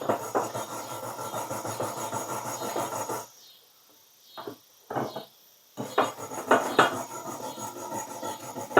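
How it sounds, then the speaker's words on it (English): A wire brush scrubs rust off the threads of a Clayton Mark frost-free yard hydrant: bursts of harsh, rasping back-and-forth scraping, close and loud, broken by a pause with a few short strokes. "I'm just cleaning these threads. They got a little rust on them."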